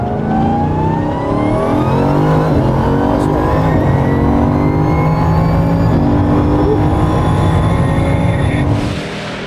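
A 1,600-horsepower Bugatti drives and accelerates with a loud, close engine tone that climbs in pitch through repeated rising sweeps, sustained for several seconds before easing off.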